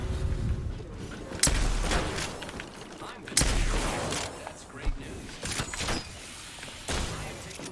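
Video game gunfire, heard as sharp bursts of shots near 1.5 and 3.5 seconds with scattered shots after, mixed with in-game voices and effects.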